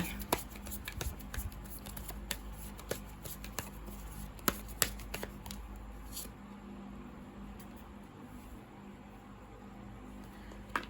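Oracle cards being shuffled by hand, producing close, soft riffling and sharp little taps scattered through the stretch, quieter toward the end.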